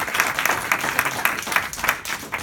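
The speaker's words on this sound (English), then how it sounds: "A round of applause for Martin." An audience claps for a speaker at the close of a talk on the Sheffield Urban Flows Observatory, giving a brief, fairly close round of applause with a steady rhythm of overlapping claps.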